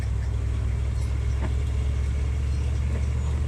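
An old truck drives through a blizzard, its steady low engine rumble and road noise continuous and fairly loud, with no voices.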